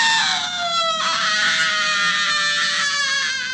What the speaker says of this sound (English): that's the great death cry of the witch from Snow White.